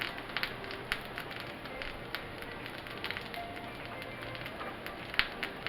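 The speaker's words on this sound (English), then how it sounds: "I have my corn frying over there also." Quiet sizzling and scattered pops of corn fritters frying in hot oil, with faint crackles throughout.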